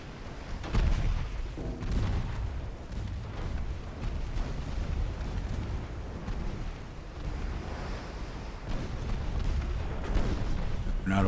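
Naval artillery fire from warships in Ultimate Admiral: Dreadnoughts, a Spanish Empire fleet of 1890, rolls on as a dense, booming roar with heavier thuds rising out of a constant surf-like rumble for over ten seconds.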